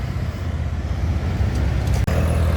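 Cars driving past on a road, a steady, fairly loud rumble of engines and tyres with a brief dip near the end and no talk.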